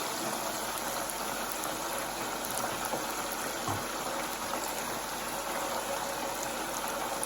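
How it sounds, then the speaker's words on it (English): Spinach flash frying in hot peanut oil at 350 degrees, giving a steady, dense sizzle and crackle that holds evenly throughout without pause. "It only takes a couple minutes to flash fry it."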